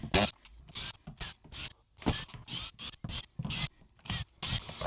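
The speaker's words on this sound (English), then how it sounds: "I'm just going to remove the pick guard, which is just a few screws around the edge of the pick guard" Screws being worked out around the edge of a Squier electric guitar's pickguard, giving a series of loud, close ratcheting clicks and scraping turns in short bursts with brief pauses between them.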